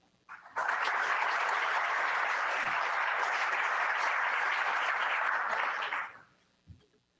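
An audience at a conference session bursts into loud, sustained applause that holds steady for about five seconds and then fades quickly.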